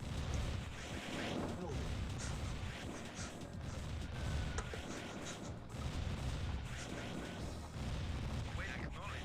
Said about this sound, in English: When you hear destroyers firing for like 10 minutes to kill something